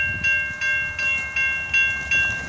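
Canadian National freight train rolling through a crossing in Effingham, Illinois, with a steady rumble and a repeating rhythm of bright ringing pulses roughly every half second, close and loud, no talk.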